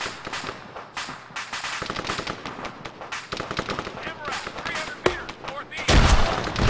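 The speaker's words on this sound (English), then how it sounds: "Got some firing to the left. Some to the right." Rapid gunfire in the combat video game ARMA 3, with dense repeated shots and bursts coming from several directions throughout, some sharp close cracks standing out, and a voice talking over it.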